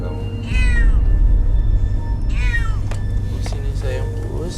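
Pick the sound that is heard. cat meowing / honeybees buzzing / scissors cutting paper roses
cat meowing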